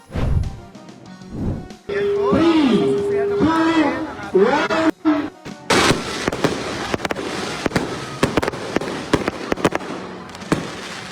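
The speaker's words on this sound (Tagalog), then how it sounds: "isinagawang fireworks display sa Cotabato City Plaza" Fireworks burst again and again with sharp cracks and booms over whistling launches and a murmuring crowd at Cotabato City Plaza, loud and continuous.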